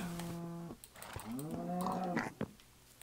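A Minecraft cow moos twice in the game, a close, clear, drawn-out lowing call followed by a second rising moo, with no talk over it.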